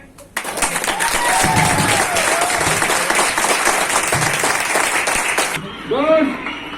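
An audience at a direct selling meeting claps loudly and steadily for about five seconds, then stops abruptly. Voices rise over the tail end.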